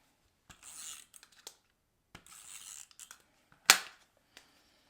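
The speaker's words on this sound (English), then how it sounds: "I'm going to just put some tape right here" Strips of tape pulled and pressed onto a paper pumpkin craft, giving short crackling rips and taps with one sharp louder snap near the end, close and alone with quiet gaps between.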